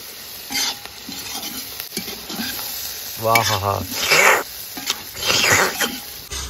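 Assamese duck meat curry stirred in a pan over heat: a steady close sizzle with scraping spoon strokes, plus a brief squeaky chirping sound in the background.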